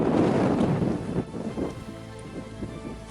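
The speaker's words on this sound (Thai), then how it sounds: "วันนี้มันลมแรง" Strong wind gusting outdoors on a fishing trip, a broad roaring rush that is loudest at the start and then eases into a steadier blustery wash, with no voices.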